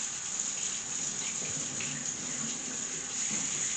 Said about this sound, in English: Now the next step is cold water, okay?